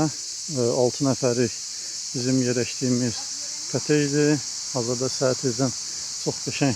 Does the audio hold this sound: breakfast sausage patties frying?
no